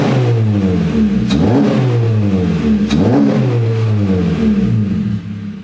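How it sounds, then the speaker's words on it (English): A 2022 Honda Civic Sport engine revs repeatedly through an open exhaust cutout, pitch climbing and dropping in several throaty, rumbling sweeps, loud and close. "What do you guys think about that open exhaust cutout?"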